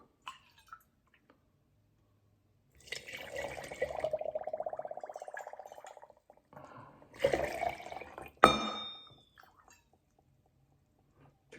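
Water poured into a brine mix in a kitchen, a steady close splashing pour lasting a few seconds, then a second shorter splash and a sharp clink of a container, with quiet gaps between.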